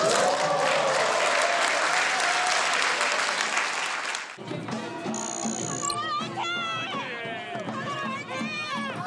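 Supporters of former party leader Lee Jun-seok at a political campaign event: a loud crowd applauds and cheers at first, then the clapping gives way to excited voices and shouts.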